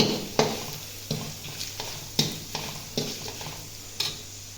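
Spice powder is stirred into vegetables frying in a pan for Karnataka-style vangi bath. A soft sizzle runs under distinct scraping stir strokes that come roughly once a second, close and clear.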